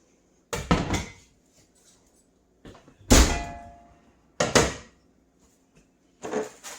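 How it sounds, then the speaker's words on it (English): A Dutch oven is pulled out of an oven while baking sourdough bread, bringing four separate metallic clangs and knocks, one with a brief ringing tone, scattered across a few seconds in a quiet kitchen, close by and without talk. "I pull my pan out of the oven, or my Dutch oven out of the oven"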